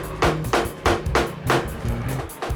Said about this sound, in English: I'm going to do is to tap the screwdriver with a hammer whilst turning it anti-clockwise